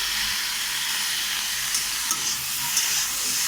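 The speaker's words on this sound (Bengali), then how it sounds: "আমি একটু কিডনি ভেজে নিচ্ছি আর একটু ধনে পাতা দিয়ে দিলাম" Kidney pieces frying with coriander leaves in a pan, a steady loud sizzle with faint scraping of stirring throughout, no voices.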